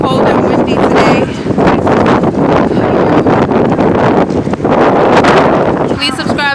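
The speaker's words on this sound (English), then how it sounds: "It's very cold and windy today." Strong, cold wind gusts through New York City on a February day, buffeting the microphone with loud, continuous rumbling roar and flutter, while a person talks through it.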